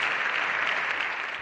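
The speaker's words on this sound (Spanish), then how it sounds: "los representantes del Partido Social Español aplaudieron de pie al mandatario colombiano" Parliamentary deputies of the Spanish Socialist Party give a standing ovation to the Colombian president, a dense and steady roar of clapping that stays constant throughout the brief stretch.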